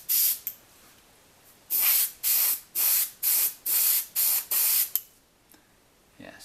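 A paint sprayer set to about 30 psi fires a series of roughly eight short, loud hissing bursts in a steady rhythm while finishing a woodwork piece, with brief quiet gaps between them and no talking.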